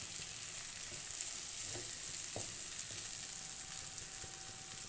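Vegetable omelette mixture frying in a pan, a steady, fairly quiet sizzle holding throughout with a few faint taps from stirring.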